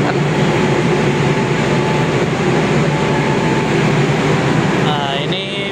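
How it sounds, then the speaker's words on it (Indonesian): Steady loud rumble and hum of a KRL commuter electric train departing, heard from inside the car, with a continuous low drone, faint rail clatter, and muffled voices in the background. "KRL sebentar lagi diberangkatkan."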